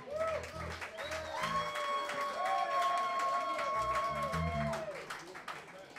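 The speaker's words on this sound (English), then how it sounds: "Big round of applause." An audience applauds and cheers as a guest is welcomed to a Sunday afternoon music jam. Steady clapping rises and stays strong for several seconds beneath sustained musical tones, and a voice speaks over it.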